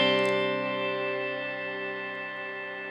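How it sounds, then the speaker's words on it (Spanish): Sustained guitar chords ringing out through a Nux Atlantic Delay & Reverb pedal set to shimmer, a long, bright, swelling wash that slowly decays over a few seconds with no talking. "el shimmer, que es alargar los acordes"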